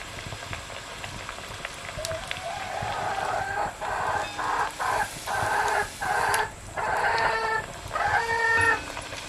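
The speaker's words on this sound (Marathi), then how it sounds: "कोंबडी पण ओरडत आहेत" Chickens and a rooster call repeatedly in short bursts from a nearby coop at a village home, clucks and crowing rising and falling over a low background hum.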